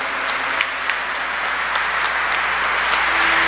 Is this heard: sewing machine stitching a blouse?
no